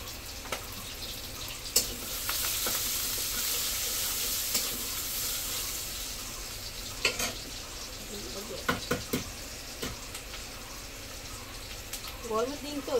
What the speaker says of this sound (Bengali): রসুনাটার জন্য ভাতটা ভাজা দিই